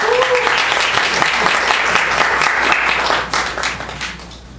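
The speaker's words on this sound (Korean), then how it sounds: "여러분 큰 박수 부탁드릴게요." Loud, dense applause from an audience welcoming a presenter at a design team talk, sustained for several seconds before tapering off near the end, with a faint voice briefly audible early on.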